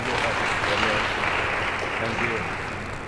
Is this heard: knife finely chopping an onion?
no